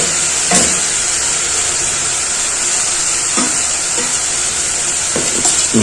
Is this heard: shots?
no